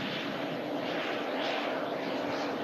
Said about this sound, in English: Pilatus PC-12